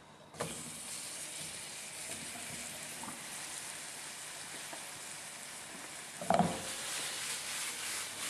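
Sliced bananas stirred into sizzling caramel, a soft steady hiss that starts abruptly and holds throughout, with a brief louder clatter of stirring near the end.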